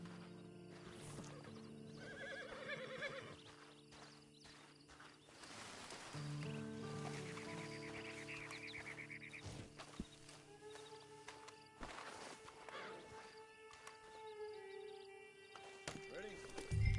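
A horse whinnies and its hooves clip-clop at a walking pace, close by, while people talk over the sounds.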